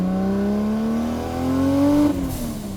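A 650 HP RB26-powered Nissan 300ZX engine revs hard to about 8,500 RPM, its pitch climbing steadily to a loud peak before dropping sharply as the throttle is released.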